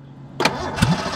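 A fuel-injected truck engine cranks and fires, two quick bursts of starter and combustion followed by a rough catch, close and loud with no talk.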